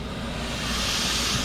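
A propane gas burner for a seafood boil pot, fed through a ball valve with Teflon-taped fittings, roars with a steady, close broadband hiss that holds evenly throughout with no talking.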